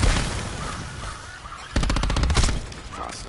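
Rapid bursts of SOG gun fire in Black Ops 4, loud close shots in a quick rattling string over a busy game soundscape.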